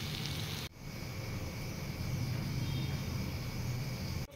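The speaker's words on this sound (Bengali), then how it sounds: "এবারে এটাকে সামান্য ভেজে নিয়ে একটু ঢাকা দিয়ে দিব," Taro frying in a pan on a home stove, a steady close hiss of sizzling oil that runs almost the whole time, cut briefly near the start and again at the end.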